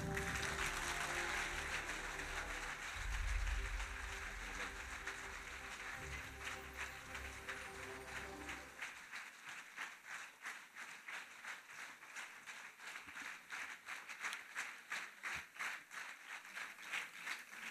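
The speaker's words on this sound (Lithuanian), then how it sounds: "palydėkime juos plojimais" Audience applauding award laureates at an Independence Day event in Mažeikiai, a dense roar of clapping that thins into rhythmic unison claps, steady and moderately distant.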